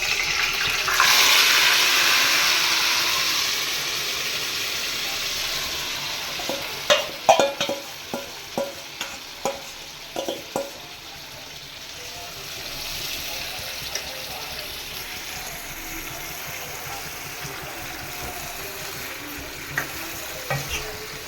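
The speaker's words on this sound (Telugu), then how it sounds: "ముందుగానే మనము పక్కన పెట్టుకున్న చికెన్ అదే ఆయిల్లోనే వేసేసుకున్న వేయాలండి. వేసిన తర్వాత బాగా తిప్పేసి" Chicken sizzling and frying in hot oil while being stirred, with a steady broad hiss and a run of sharp scraping knocks from the stirring utensil partway through; no talk.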